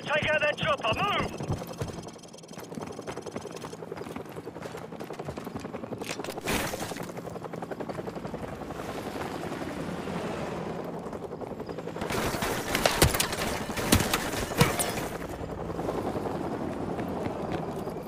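In the Modern Warfare Remastered video game, a helicopter's rotor roar fills the scene while bursts of gunfire and heavy blasts crackle over it, with voices shouting in the mix.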